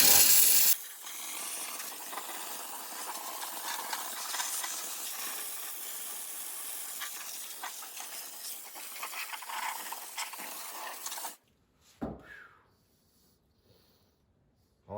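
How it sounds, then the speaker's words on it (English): Steam cleaner hissing continuously as it sprays steam into the neglected wheel wells of a Mustang, a steady close jet for about eleven seconds before cutting off, followed by a few faint handling noises. "Only problem with using steam in a confined space, you can't see what's going on after a few seconds"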